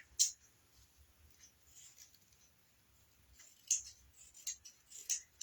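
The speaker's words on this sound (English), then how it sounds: "And then on their seam, I'm going to cut it apart." Scissors snip apart the seam of a fabric ribbon on a bunny-shaped treat bag, giving a few short, sharp close-up cuts spaced irregularly against near silence.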